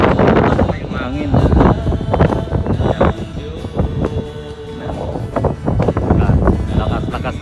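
Very strong, cold wind buffeting the microphone in gusty roaring bursts, with a person speaking over the rushing noise.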